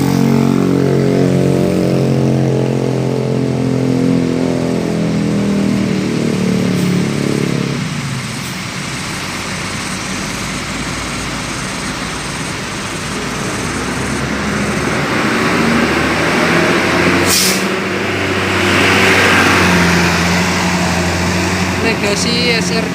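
A heavy bus engine rumbles loudly up close, its low drone shifting and rising in pitch as it revs, running steadily throughout.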